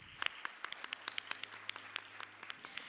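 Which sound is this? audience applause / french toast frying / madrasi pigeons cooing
audience applause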